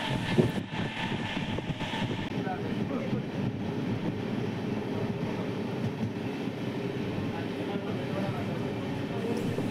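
An LHB-coach Jan Shatabdi superfast express train, running from Mayiladuthurai to Coimbatore, rumbles along steadily at speed, a continuous rolling drone with wheel and coach noise heard from on board.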